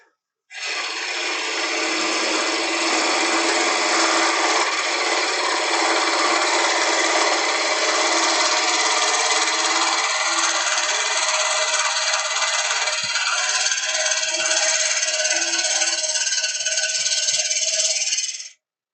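A wood lathe spins a bowl while a small bowl gouge makes cleanup cuts, a continuous loud, hissing scrape with faint rattling, steady for about seventeen seconds.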